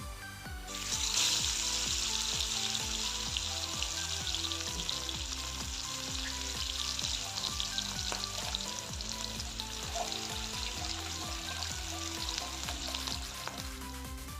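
Fish frying in a pan, a steady, close sizzle with continuous crackling and spitting oil that holds throughout.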